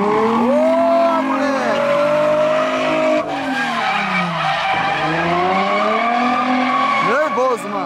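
A drift car fitted with a body kit skids through repeated loud tire squeals that rise and fall in long sweeping screeches with engine revving underneath, while people talk excitedly nearby.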